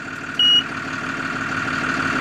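Heavy machine's engine idling steadily with hydraulics during valve calibration, a constant mid-pitched drone with a brief high electronic beep near the start.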